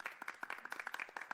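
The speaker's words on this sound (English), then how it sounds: "We can get some clapping." A small group claps hands together with quick, irregular, overlapping claps that stay fairly faint and close throughout the short stretch.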